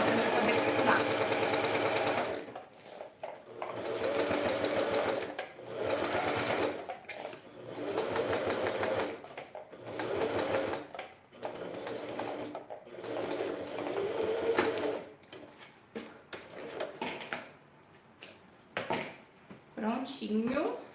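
Sewing machine stitching a fabric wine bottle holder, running in steady bursts of mechanical whirring with short pauses between runs, close and fairly loud throughout.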